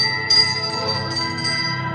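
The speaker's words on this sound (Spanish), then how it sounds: "hizo sonar nerviosamente la campanilla" A small hand bell is shaken nervously, its bright metallic ringing sustained and fading over a couple of seconds with no voices.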